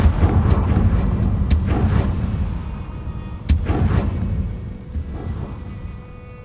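Confringo fire spell blasts in Hogwarts Legacy go off as a series of sharp, booming explosive cracks, loud and close, with rumbling tails fading between the hits.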